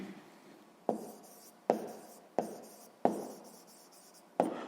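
A pen writes a math answer on paper, a close, quiet run of short scratchy strokes set off by five sharp taps as the tip meets the page, with no voices.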